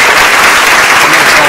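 An audience at a school board of trustees meeting gives a round of applause for a girls' team and its assistant coach, a loud, dense burst of clapping throughout.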